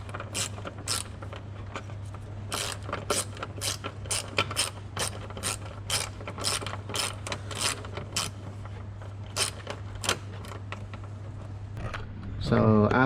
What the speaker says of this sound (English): So then we need to tighten the 10mm heads back into here.